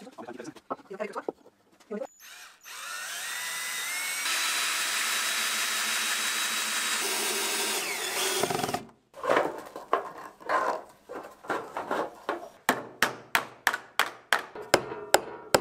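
A power drill whines in a long sustained burst while driving screws into a wooden bat box, followed by a rapid series of sharp knocks or taps, with brief talk at the start.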